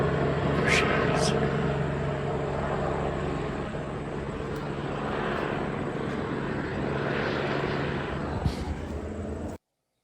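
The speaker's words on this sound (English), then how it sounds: "So we have that helicopter shows up" A helicopter flies overhead in Ohio, its engine and rotor drone steady and fairly loud for about nine and a half seconds before cutting off abruptly.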